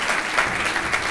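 A crowd at a live event applauds, a brief, continuous roar of many hands clapping, fairly loud and even throughout.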